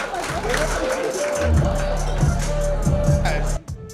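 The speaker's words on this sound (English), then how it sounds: "round of applause for all the acts you saw in the first half" An audience at a live standup comedy competition applauds the acts, a sustained roar of clapping and crowd noise that cuts off abruptly near the end, with music underneath.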